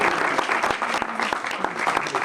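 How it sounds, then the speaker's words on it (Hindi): An audience at a teachers' training session applauds as a guest is welcomed onto the stage, producing a full, close burst of many hands clapping with sharp individual claps standing out. "आप सबकी भरपूर तालियों में मिस्टर हबीबुल्लाह"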